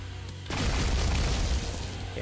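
A shot in Geometry Dash sets off a sudden booming blast that sustains as a dense roar for about a second before easing off.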